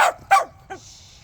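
Puppies yapping by a backyard puppy pool: three short, bright barks, the first two close together and the third a softer yip, loud and near with no talking.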